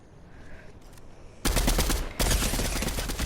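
Bursts of Fortnite gunfire at close range: a quiet stretch, then loud dense shots breaking out, a brief gap, and a second sustained volley to the end.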